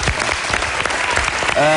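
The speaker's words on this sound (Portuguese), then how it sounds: "quero uma grande salva de palmas para o João e para a estreia do seu programa" A TV studio audience claps for João at the debut of his show, a busy, close burst of applause that runs throughout, with a voice rising briefly near the end.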